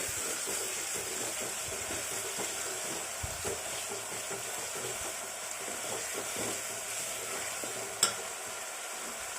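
Mutton curry with coriander, ginger and salt being stirred in a pan, a low steady sizzle with faint scraping throughout and one brief sharp clink near the end.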